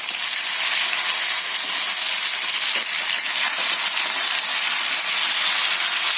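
Sankara fish frying in hot oil on a tawa, a loud dense continuous hiss and crackle filling the whole stretch, with a faint bump as the fish is turned.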